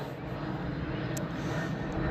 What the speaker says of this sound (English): Planes are going up and down